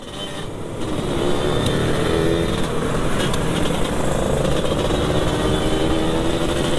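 Several two-stroke motorcycles drone and rev at close range during a night gathering of 2-stroke enthusiasts in Makassar, a continuous loud engine roar with no talk.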